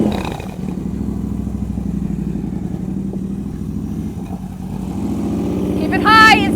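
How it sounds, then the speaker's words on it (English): A motorcycle engine is held at high throttle during riding practice, giving a steady, close, droning hum that swells louder near the end, with people talking over it. "Keep that throttle high. Rev it. I want to hear your throttle."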